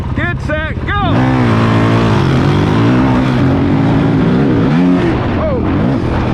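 Two dirt bikes, a YZ65 and a CRF450L, revving and racing off together, loud close engine whine with rising pitch as they accelerate, wind buffeting and a voice briefly heard at the start.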